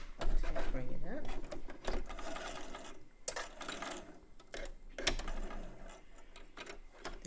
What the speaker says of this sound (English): then just 3 little stitches of back stitching.